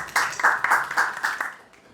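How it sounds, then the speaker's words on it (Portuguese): Audience clapping for the guests at a panel discussion, a short burst of applause from a small crowd with distinct individual claps that fades out after about a second and a half. "Uma salva de palmas para os nossos convidados"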